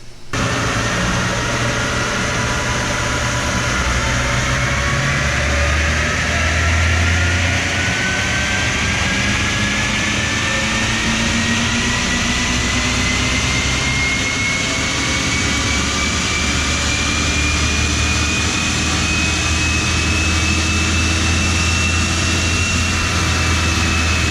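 An Audi 55 TFSI engine on a dyno in fourth gear, a loud steady drone that rises slowly in pitch as revs climb toward about 6,400 RPM, sustained and close.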